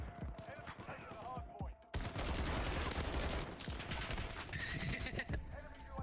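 Rapid, sustained gunfire from the Call of Duty Modern Warfare video game, with dense bursts of automatic weapon shots close and loud, played on an Xbox One with mouse and keyboard.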